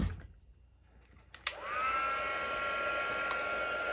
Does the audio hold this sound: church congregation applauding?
no